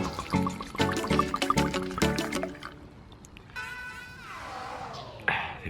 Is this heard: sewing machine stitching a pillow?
no